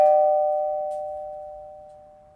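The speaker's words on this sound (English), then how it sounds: "one thing I haven't tried for ages is the doorbell" A doorbell gives a single clear chime that slowly fades out over a couple of seconds, heard faintly on its own in a quiet room.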